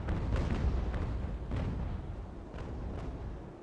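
Cannon fire from sailing warships during a naval battle in Ultimate Admiral: Age of Sail, heard as a steady low rumble of distant broadside booms with a few sharper bursts rising out of it.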